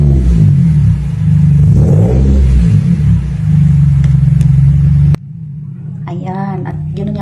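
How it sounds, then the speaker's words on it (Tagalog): Revving car engine, loud and close, with a deep harmonic rumble that rises and falls through repeated throttle blips for about five seconds, then cuts off abruptly before brief voices are heard. "at ganoon nga po ang tunog ng sasakyan ni Kalo."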